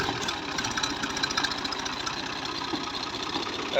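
A tractor engine running close by, a steady rapid diesel knock with an even rhythmic chug throughout, loud and alone without voices.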